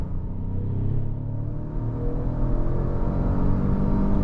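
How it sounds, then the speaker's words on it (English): A 2020 Lincoln Navigator Reserve with a 450-horsepower engine and 10-speed gearbox accelerates, heard from inside as a muffled, rising low rumble that swells steadily with no voices. "Unleash this 450 horsepower monster."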